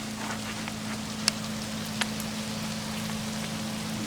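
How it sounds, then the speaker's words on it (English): Steady rain hisses evenly, with a constant low hum underneath and a couple of sharp ticks from drops striking something nearby. "It's been raining since about 3 o'clock this morning"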